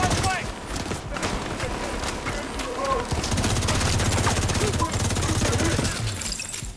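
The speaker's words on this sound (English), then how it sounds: "So in this case, five guys shooting at me." Enemy gunfire in The Division 2 as five attackers shoot together. Overlapping automatic bursts crackle and rattle steadily at a strong level, with a voice talking over the shooting.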